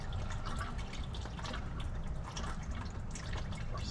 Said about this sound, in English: So we'll just let this drain for a while.